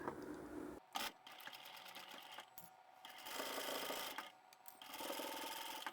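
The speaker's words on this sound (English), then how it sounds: "I'm going to sew right along the top here with my 1 centimetre seam allowance." A sewing machine runs a seam along the top of a simple drawstring phone pouch, its motor whirring in steady bursts with brief pauses between runs, close and fairly loud with no talking.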